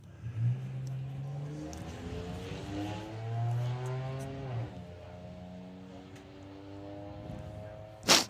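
Drag racing cars, a BMW and a Camaro, launch down the strip, their engines rising in pitch through repeated revving sweeps. A sharp, loud burst comes at the very end.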